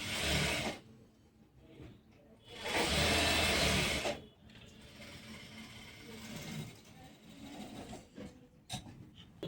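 Sewing machine stitching a garment panel, running in bursts of close, loud whirring that start and stop, with quieter handling and fabric noises between runs.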